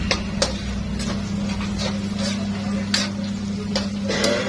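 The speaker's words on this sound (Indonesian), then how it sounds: "Sekalian kita goreng itu teman-teman baksonya, soalnya kalau basah aku kan gak doyan teman-teman, jadi aku goreng agak garing sedikit ya." Bakso meatballs frying in a pan to a crisp, a steady low sizzle with occasional sharp clicks and clinks of utensils against the pan, close by.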